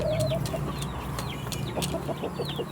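Chickens clucking softly in the background, scattered short clucks and a few higher chirps over a steady low outdoor hum.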